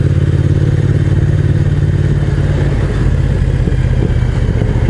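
A motorcycle pulls away in second gear on a mountain road ride, its engine a steady loud low drone with constant rumble and wind noise throughout, no speech.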